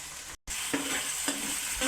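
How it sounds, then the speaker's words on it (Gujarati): Food sizzles steadily in hot oil, with tomatoes added while cooking potato poha, a few soft stirring scrapes and a brief dropout near the start. "આપણે તેલમાં પકવી લેવાનું છે"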